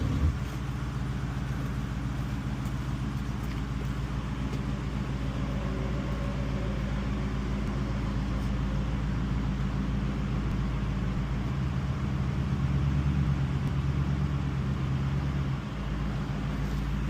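A 2019 Dodge Durango R/T creeping along slowly, its engine a steady, low, continuous hum close by with faint road rumble and no voices.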